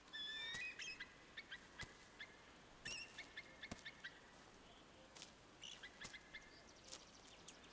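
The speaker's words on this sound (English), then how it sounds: "The bird noises, stuff like that, it almost feels like I'm in a forest." Bird calls in the medieval survival game Medieval Dynasty: scattered quacking and chirping calls over a soft forest ambience, with sharp clicks and taps between them and no speech.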